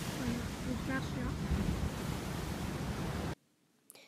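Sea waves wash against the shore at Sausset-les-Pins, a continuous close wash of surf mixed with wind rush, cutting off abruptly near the end to near silence.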